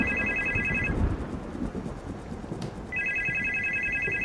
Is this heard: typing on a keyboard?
no